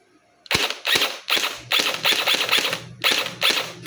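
A toy MCX gel blaster fires about nine sharp, close, loud shots in quick succession, the spacing uneven, with no talking.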